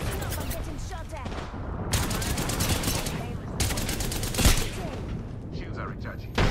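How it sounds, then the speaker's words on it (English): Video game gunfire in sustained loud bursts of rapid automatic shots that come close together and keep going across the stretch, with a dense mix of battle noise underneath. "Listen up, I'm getting shot at."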